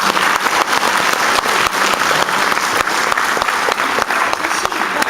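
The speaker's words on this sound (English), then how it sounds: "So give Judah a big round of applause." Audience applauding a participant at a science show, a dense sustained burst of clapping from a full crowd, loud and steady throughout.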